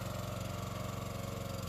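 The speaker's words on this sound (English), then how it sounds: "We've got our wood splitter." A wood splitter's small engine runs steadily at close range, a loud even throbbing drone with a regular pulsing rhythm and no voices over it.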